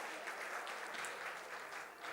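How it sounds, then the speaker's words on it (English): A crowd at the PACC 2025 inauguration cheers and applauds in a steady, dense roar that fills the whole stretch without a break. "Can we have a loud cheer for the people who are ready to witness PACC 2026 in February?"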